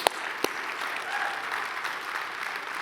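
A church congregation gives a loud round of applause to the Lord, sustained, dense clapping that fills the room evenly from start to finish, with a couple of sharper claps standing out near the beginning.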